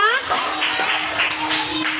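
A class of fifth-grade children gives a short round of clapping while a teacher's voice carries over it, the claps forming a steady patter for about two seconds.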